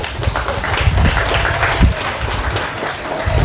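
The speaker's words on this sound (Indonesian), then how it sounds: "Tepuk tangan untuk ibu-ibu" Audience at an Indonesian Islamic sermon by Ustadz Zein Muchsin applauds the mothers, with dense, steady clapping filling the whole stretch at close range.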